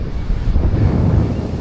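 Strong wind buffets the microphone on a beach while waves roll and wash in the background, a loud, steady roar throughout the short stretch, with no voices.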